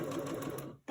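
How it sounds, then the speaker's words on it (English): A sewing machine runs in a steady, close whir of rapid stitching for nearly a second during quilting, then stops abruptly. "you can come down to your sewing machine, take out your little bag and start sewing immediately"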